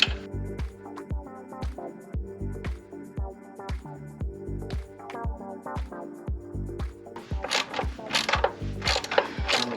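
A socket wrench ratchets steadily to tighten the mounting bolts of a Lippert Power Stance tongue jack on a trailer. Rapid, close clicking runs in bursts, with a clank of metal near the end.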